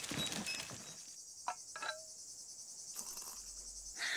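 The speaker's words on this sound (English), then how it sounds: "Just us and the sound of crickets." A steady, shrill chorus of crickets chirping in an animated children's show, continuous and fairly clear in a quiet setting, with a few small clicks mixed in.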